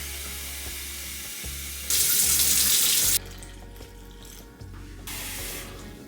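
A kitchen tap runs warm water for bread dough, a close splashing stream that swells into a louder gush for about a second before easing back to a steady flow, with no talking.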